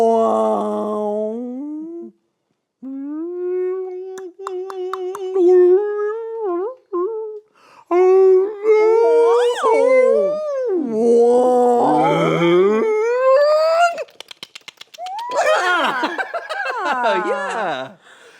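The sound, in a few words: person imitating a whale call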